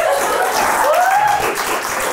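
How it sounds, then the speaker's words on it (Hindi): Live stand-up comedy audience breaking into applause during crowd work, a steady wash of clapping that holds loud and dense throughout with a faint tonal whistle or voice rising through the middle. "बजाओ ना ताली, क्या है बजाओ तो।"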